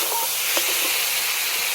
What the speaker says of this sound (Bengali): এবারে দিয়ে দেবো ভেজে রাখা আলুগুলো। আলুগুলো মশলার সঙ্গে ভালো করে কষে নেব।